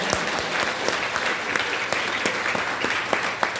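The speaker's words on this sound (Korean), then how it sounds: "박수 한번 좀 부탁드립니다." Steady, dense applause from a crowd at a book launch event held in a convention hall, many hands clapping continuously and fairly loud with occasional sharper individual claps.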